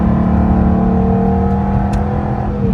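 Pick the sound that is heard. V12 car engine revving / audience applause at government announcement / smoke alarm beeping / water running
V12 car engine revving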